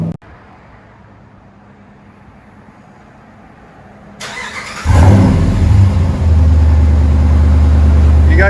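A pickup truck's V8 with true dual exhaust idles quietly, then starts and rises into a loud, deep, steady revving roar that stays close and powerful to the end.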